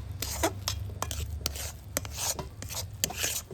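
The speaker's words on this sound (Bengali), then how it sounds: "দু মিনিটের মতো লো টু মিডিয়াম আছে জাল করে এইভাবে নাড়তে থাকবো" A spoon stirs and scrapes palm pitha batter mixed with grated coconut in a pan over low to medium heat, making a quick, uneven run of close rasping strokes.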